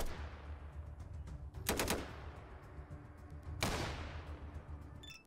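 Bursts of gunfire in the post-apocalyptic role-playing video game Atom RPG: two sharp volleys about two seconds apart, loud and close over a low rumbling game background, with no one talking.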